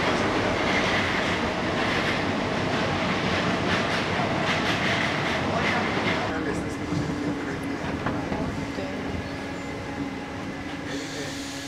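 A metro subway train rushes past close by in Paris, a loud continuous rumble with rapid clattering wheels that eases into a steadier, quieter roll with a faint squeal.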